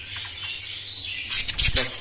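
Caged birds, yellow-faced females placed among males, chirp in a steady high twittering chorus that builds to busier, louder calls near the end, with faint background noise beneath.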